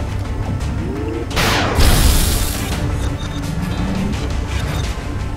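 A single loud, sharp gunshot in XCOM: Enemy Unknown rings out over a steady background din, followed by a broad noisy tail that fades over a second or so.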